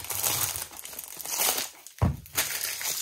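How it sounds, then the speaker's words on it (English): Wrapping paper is torn and crumpled off a Chopard fragrance box during an unboxing, with close, loud crinkling and ripping in irregular bursts and a sharp tear near the middle, no talking. "Goodbye, wrapping paper."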